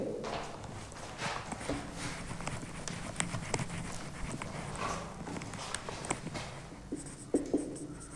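Writing a definition on a board during a biology lesson produces repeated short, scratchy strokes and taps close by, irregularly spaced, over a quiet room background.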